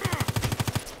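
A rapid burst of about ten automatic gunshots from a video game fires in even rhythm over one second, close and punchy.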